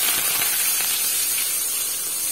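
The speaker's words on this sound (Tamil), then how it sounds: "இது எல்லாத்தையும் சேர்த்து நல்லா பொன்னிறமாக வதங்கி வர அளவுக்கு கொஞ்ச நேரம் வதக்கிக்கிட்டு இருக்கணும்" Onion, garlic, curry leaves and green chili sauté in hot oil, giving a steady, close sizzling hiss with no pauses.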